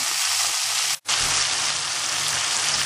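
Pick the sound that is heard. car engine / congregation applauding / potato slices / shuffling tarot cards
potato slices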